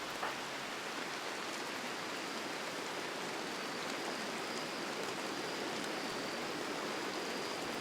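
Steady rain in the colony-building game Rimworld, a dense even hiss of falling water holding the same level throughout with no voices over it.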